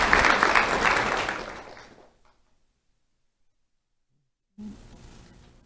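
An audience at an awards ceremony applauds loudly, then the clapping fades out over about two seconds into near silence before a brief, fainter noise returns.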